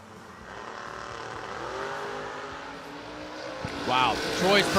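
Drag racing cars, a Chevrolet Nova and an Oldsmobile, heard from a distance at a track, a steady engine roar building, then sharp revving sweeps near the end, with an announcer talking over it.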